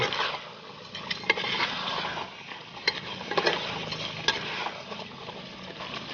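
Crab curry bubbling and frying in a pan while a ladle stirs it, giving a continuous sizzling hiss broken by scraping strokes and light metallic clinks, close up.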